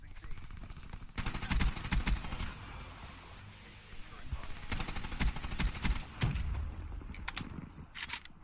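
Rapid automatic gunfire in Call of Duty Black Ops 3 rattles in bursts, with a longer volley at the start and more bursts later, mixed with game effects and faint talk.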